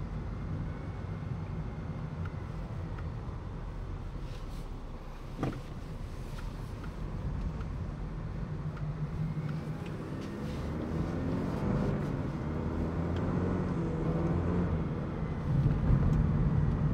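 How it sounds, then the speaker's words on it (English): A Cadillac CT4-V cruising around town in tour mode with a steady, subdued engine and exhaust drone, road rumble underneath and a slight rise in intensity toward the end. "Around town in tour mode, the exhaust is pretty quiet."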